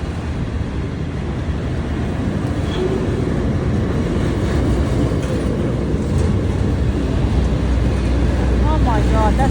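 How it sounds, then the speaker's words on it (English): A very long freight train rolls past without letup, a dense, steady rumble and rattle of wagons that stays loud and constant throughout. "Oh my God, that's the longest train on the planet."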